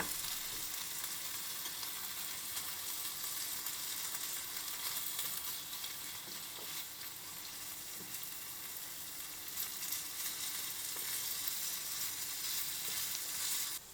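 Flaked salted salmon, skin removed, frying in a pan and stirred with a wooden spoon or chopsticks as its moisture cooks off; a steady, even sizzle runs close and unbroken throughout, with no talk.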